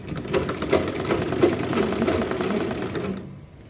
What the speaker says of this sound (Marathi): आता आपण हिला स्टिच करून घेऊ.